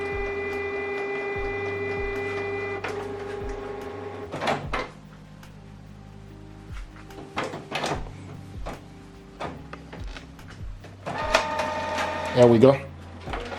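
A Canon Pixma printer running a print job, with a steady mechanical hum followed by clicks, whirs and feeding clunks, close by, while a person briefly speaks.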